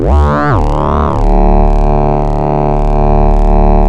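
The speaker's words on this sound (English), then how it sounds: "fold, which is a West Coast style wave folder" Synth engine of UVI Rumble using a West Coast style wave folder, sounding as a loud, buzzy harmonic tone that sweeps and bends over the first second, then settles into a steady rich drone with a softly pulsing upper shimmer.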